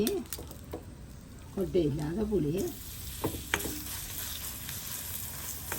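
Tamarind frying in a pan, a soft steady sizzle with a few sharp ladle clicks and stirring scrapes, while someone talks over it.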